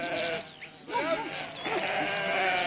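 Sheep bleat in a mountain pasture in Macedonia, where a flock of more than 2000 animals is tended by shepherds. Several wavering bleats overlap and follow one another at close range, with no talking.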